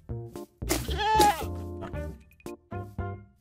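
A Minecraft goat bleating in a series of short, quavering cries, close and clear, alternating with quieter gaps.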